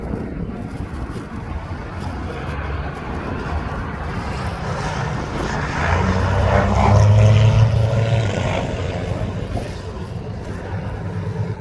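A Jet2 airliner taxis at East Midlands Airport toward runway 09, a steady low engine rumble and whine that swells louder midway as it passes nearby, then eases off, with no talk.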